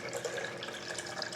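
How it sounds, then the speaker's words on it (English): Four cups of water pour steadily into a high-speed blender jar, a continuous splashing hiss, close and moderately quiet, with no talking. "we're going to put basically 4 cups of water into your high-speed blender"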